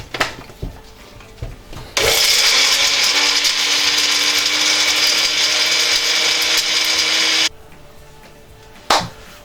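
Blender whirring through yam peppersoup ingredients, a loud high-pitched motor roar that starts abruptly, runs steadily for about five seconds, then cuts off, with small knocks before and after.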